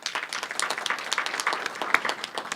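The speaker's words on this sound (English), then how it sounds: "Let's have a big round of applause for Sean." An audience at an alumni hall of fame banquet applauds, with dense, lively clapping from many hands that stays steady and fairly loud throughout.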